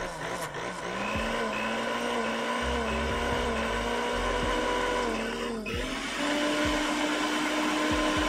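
A blender grinds melon chunks, a loud continuous whirring motor with shifting pitch and occasional rattling jolts as the speed changes, running steadily close by.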